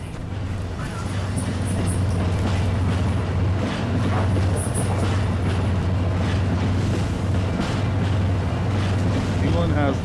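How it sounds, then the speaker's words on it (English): A monorail train in the Alien vs Predator video game runs with a steady heavy drone and whooshing rush, loud and continuous, with a deep hum underneath and a few metallic tones layered over it. "Monorail system activated."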